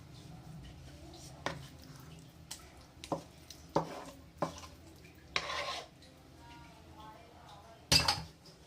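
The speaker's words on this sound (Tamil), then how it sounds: "இப்போ பாத்திரத்தில் தூக்கி ஊற்றுவோம்" Thick tender coconut halwa is transferred from the cooking pan into a vessel, with sparse, fairly quiet metallic scrapes and clinks of spoon against metal separated by pauses.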